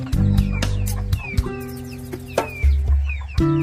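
A native country hen, just off her brooding nest and looking for food, clucks in repeated short bursts close by, with other poultry calls around her and no talk.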